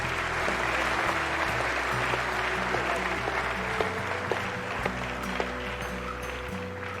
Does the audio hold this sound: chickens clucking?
no